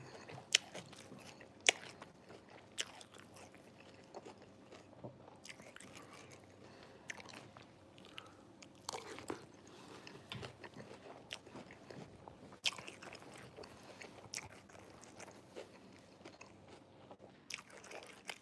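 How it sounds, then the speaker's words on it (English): Someone eating Cinnamon Toast Crunch cereal, with a steady run of soft crunching bites and chewing up close, fairly quiet, broken by a few sharper crunches and no talking. "eating on some Cinnamon Toast Crunch."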